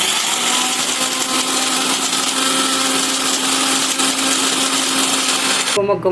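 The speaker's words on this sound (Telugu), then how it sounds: "మిక్సీ వేసుకుంటున్నాను ఇప్పుడు" A mixer grinder grinding spice powder whirs loudly and steadily for about six seconds, then cuts off abruptly near the end with a brief rattle.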